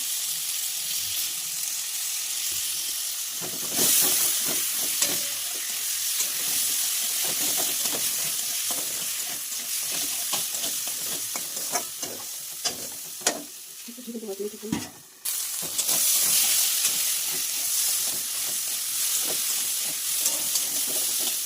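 Cumin, ginger and green chili sizzle in hot oil in a pan, a steady close frying hiss with stirring scrapes, a brief lull near the middle before the sizzle returns loud.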